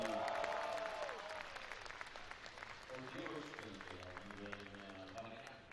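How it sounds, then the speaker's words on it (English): Applause rises from a crowd at a distance at a bouldering World Cup semi-final while someone talks over it, the clapping continuing beneath his voice. "Just heard a round of applause there"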